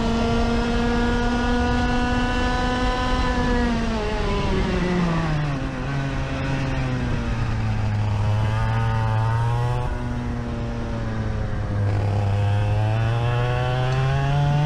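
A race car engine on a track holds a steady high drone, then drops in pitch, climbs and drops again through gear changes and corners. It is loud, close and continuous.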